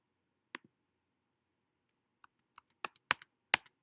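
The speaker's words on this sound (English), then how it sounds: "You keep clicking the spacebar." A computer keyboard spacebar clicks repeatedly during a Scratch coding lesson, with one sharp tap, a pause, then a quickening run of close, crisp clicks.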